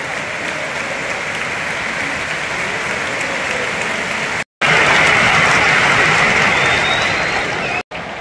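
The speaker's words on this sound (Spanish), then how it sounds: "se levanta todo el RC Stadium para aplaudir" Stadium crowd at the RCDE Stadium in Espanyol vs Real Madrid applauding in tribute to Dani Jarque, a dense, continuous roar of clapping that fills the whole stretch with two brief cuts.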